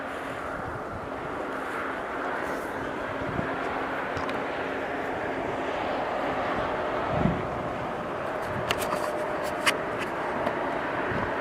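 An airliner taxiing out to the runway at Philadelphia airport, a steady broad jet-engine hum and rush with wind noise, moderately distant and continuous, with a few faint clicks.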